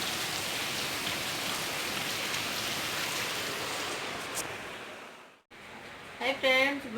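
Steady rain pours in Surat as a dense, continuous hiss at moderate distance, then briefly cuts out before a voice speaks over the returning rainfall.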